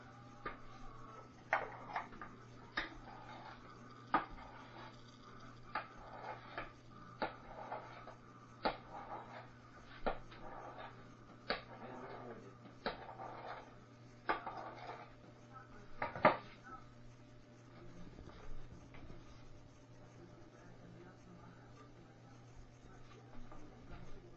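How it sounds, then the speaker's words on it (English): Egg noodle dough being rolled out on a counter, giving a steady run of sharp thumps and knocks from the rolling pin over a low, constant hum, with one louder bang near the middle. "I get a little over rambunctious when I'm rolling noodles."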